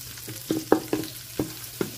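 Mixed vegetables for pakbet frying in oil in a pan, with soft sizzling and several distinct stirring scrapes and clacks of a utensil at an uneven rhythm, close and fairly quiet.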